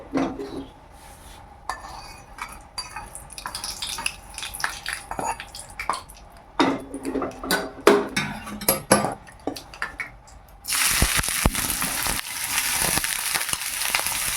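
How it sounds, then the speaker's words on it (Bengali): Spoons and pans clatter in scattered knocks and scrapes. Then grated ginger and onion go into hot oil with a sudden loud, continuous sizzle that lasts to the end. "আদা আর পেঁয়াজ বেশি ভাজবো না, হালকা করে ভেজে নেব"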